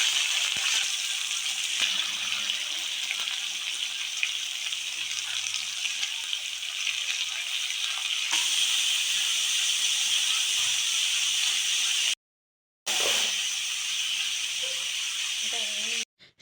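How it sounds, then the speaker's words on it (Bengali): Carrot, long beans and capsicum fry in hot oil in a kadai, a steady, dense hiss and sizzle that runs nearly unbroken, with one brief dropout near the end. "আমার তেলটা গরম হয়ে গেছে, আমি পরপর সবজিগুলো ভেজে নেব"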